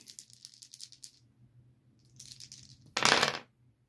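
Four dice rattled in a hand and then tumbled onto a table during a tabletop game, with light clicking shakes followed by a louder clattering roll that settles quickly, close and alone.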